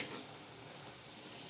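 Stir-fried young pumpkin and papaya sizzles softly in a pan as it is stirred, a faint, even hiss with light scraping.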